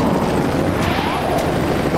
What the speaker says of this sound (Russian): Вертолет! Как круто!